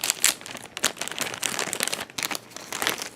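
Crisp plastic bag crinkling and rustling in close, repeated bursts as it is opened to unpack a NECA 1990 movie Shredder 7-inch action figure.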